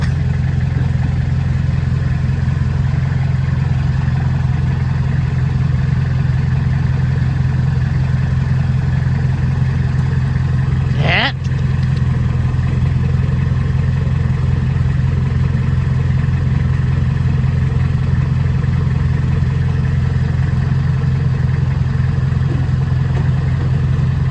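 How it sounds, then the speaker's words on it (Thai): Kubota L3408 tractor engine running steadily as the tractor drives off a dump truck, a loud continuous low rumble with one brief sharp clank midway, no talk. "วันนี้มาชมรถไถลงจากรถนะครับผม"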